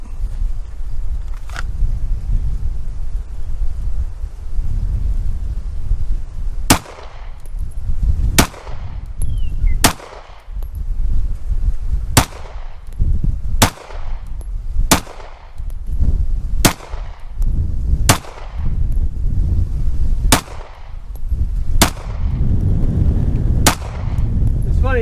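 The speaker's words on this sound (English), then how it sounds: "even as I'm shooting there in the middle of the string of fire" Repeated gunshots from a shooting drill aimed at a 13-yard target, about a dozen sharp, loud cracks fired in a steady string roughly one to two seconds apart, each with a short ringing tail over low background rumble.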